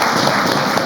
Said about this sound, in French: Applaudissements encore.